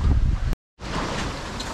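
Steady broadband wind rushing across the microphone, briefly cutting out to silence before the blustery roar resumes at a constant level.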